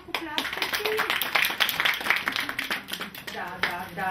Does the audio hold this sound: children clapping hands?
yes